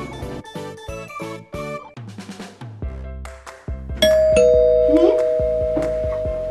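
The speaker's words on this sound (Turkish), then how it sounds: "Galiba zil çaldı Öykü." A home doorbell rings partway through, a sustained two-tone electronic chime that rises above the cheerful children's music playing beforehand and lingers as the tones fade.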